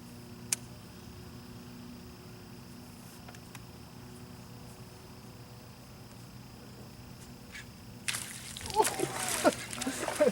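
A bass is pulled from the water after a long quiet stretch of low hum and a few ticks, with a burst of close, loud splashing and sloshing in the final seconds.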